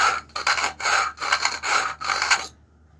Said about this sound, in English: I need to use a nice little bit of a file.